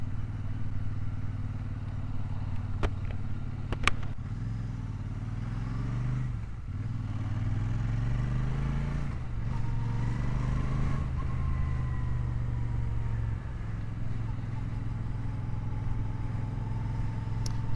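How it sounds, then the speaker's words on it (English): A Royal Enfield Super Meteor 650 cruiser rides at low speed through town, its steady engine rumble rising and falling with throttle changes, with a couple of sharp clicks and some clatter early on. "look forward to riding this motorcycle more over the next couple of weeks"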